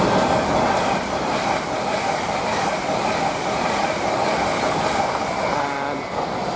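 A Class 801 passenger train passing through Doncaster station gives a steady, loud rolling rumble with faint wheel clatter near the end, continuous throughout with no voices.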